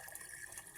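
Clean water running from a washout tap on household piping: a quiet, continuous trickling flow with no pauses.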